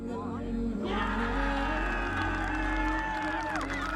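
Golf spectators cheer at The Open at St Andrews as a 22-year-old amateur from Dublin marches on, a broad, sustained roar of crowd cheering and whoops filling the air throughout after a brief quieter start.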